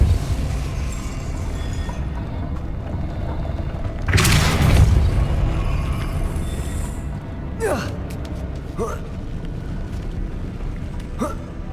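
In Hogwarts Legacy, the Depulso spell lets out a single heavy whooshing boom partway through, over a constant rumbling game ambience. A few faint whistling tones follow it.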